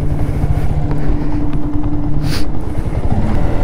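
A motorbike engine drones steadily while the rider climbs a hill road toward Mallappa Konda, a close continuous rumble with rushing wind noise over the microphone.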